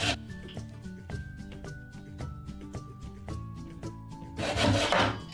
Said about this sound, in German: Du sägst da jetzt schon seit 3 Stunden dran.